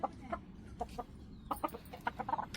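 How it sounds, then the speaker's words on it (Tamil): Backyard chickens cluck while being fed, giving a close run of short, uneven clucks and soft calls that repeat in little bursts with no one talking. "எங்கள் வீட்டு கோழிகளை ஃபுல்லாக கொஞ்சம் இறைய வச்சு திறந்து விட்டுட்டேன்"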